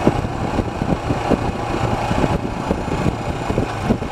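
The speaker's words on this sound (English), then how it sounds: "Got a nice little exhaust tone to it." A small car engine hums with a throaty exhaust note, steady and moderately loud from inside or near the vehicle, with light road rumble.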